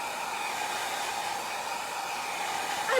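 A hair dryer blows steadily on a chalk paste sign, a continuous close whooshing hum holding an even level throughout with no talking.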